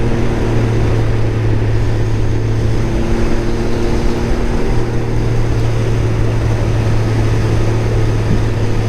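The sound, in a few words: Can-Am Ryker 900 three-wheel motorcycle riding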